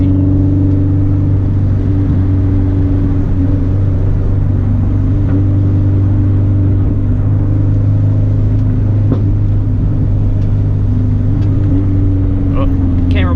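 A 2015 Subaru STi driving off: a loud, steady low engine drone with a constant rumble, heard close throughout, a brief rising rev near the end and a voice talking faintly underneath.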